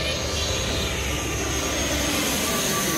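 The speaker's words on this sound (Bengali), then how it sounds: "বিমানটা ছোট হলেও অনেক শব্দ।" A small Air Astra airplane comes in to land at Dhaka airport, seen from nearby in Uttara, giving a steady, loud engine roar that holds constant throughout.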